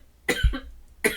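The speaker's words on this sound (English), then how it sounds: "I could not suppress that cough" A woman indoors gives a few sharp, close coughs in quick succession, two bursts followed by another after a short pause, with no speech between them.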